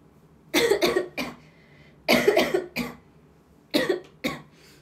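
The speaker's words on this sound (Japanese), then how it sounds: "咳だけなんだ" Three bursts of harsh coughing, each a quick cluster of two or three coughs, close and fairly loud with short quiet gaps between.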